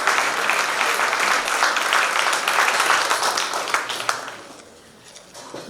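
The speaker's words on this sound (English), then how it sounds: "Please give a warm round of applause to Anna Quintanilla" An audience at an education event on the Armenian Genocide gives a warm, sustained round of applause for a speaker, dense clapping that holds steady before fading out near the end.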